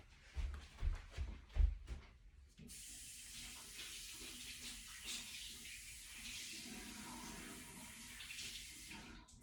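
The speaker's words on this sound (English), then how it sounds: "I'm gonna go get it wet in the bathroom." Tap water running into a bathroom sink to wet a makeup sponge, a few knocks and handling sounds first, then a steady loud hissing stream close by.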